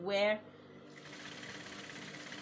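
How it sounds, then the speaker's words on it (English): A sewing machine stitches a seam along the ironing line of an off-shoulder ruched kaftan, humming steadily and quietly after a brief voice at the start. "that's where I'm going to be sewing till I get to"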